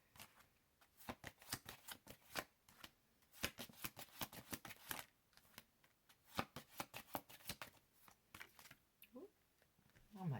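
Tarot cards shuffled briskly and then tossed about, a long run of quick papery slaps and riffles close by, steady and rhythmic with brief pauses, faint talk underneath.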